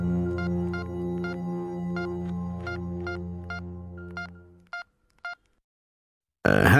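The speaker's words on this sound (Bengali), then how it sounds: "আমি অবনীবাবুকে ফোন করি" A series of telephone keypad tones, a dozen short beeps over a humming line, slowing to a few final presses before silence.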